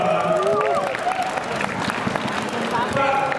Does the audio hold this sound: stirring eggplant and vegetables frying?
no